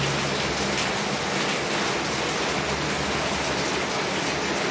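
Steady, dense afternoon rain falls throughout, a continuous hiss with a low rumble underneath and no voices.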